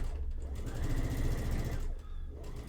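A sewing machine stitches through fabric in a fast, steady mechanical chatter, close and continuous, briefly easing before resuming.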